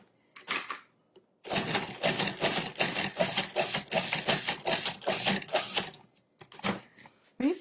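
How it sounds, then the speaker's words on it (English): Cuisinart 14-cup food processor pulsing tomatoes, a burst of rapid chopping pulses running for several seconds after a short blip, close and loud, with brief clatter at the end. "we're going to pulse that until it's finely chopped."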